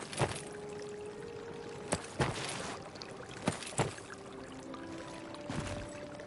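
Water pours and trickles into a basin in a video game, a soft steady stream under a few sharp clicks and knocks, fairly quiet and close.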